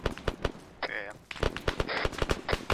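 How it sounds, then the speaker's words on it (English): AI gunfire rattles behind the players in the Arma 3 video game, with rapid bursts of shots mixed with players talking over the fire. "Behind us is AI shooting."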